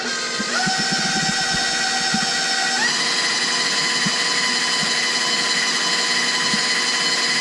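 An electric stand mixer whirs steadily while blending butter into flour for buttermilk biscuits, the motor tone stepping up twice as the speed rises, loud and close, with faint clicks of the beater underneath.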